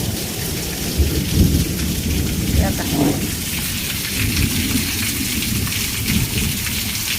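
Steady, heavy monsoon rain hisses loudly, with low thunder rumbling through it and a brief voice faintly under the downpour.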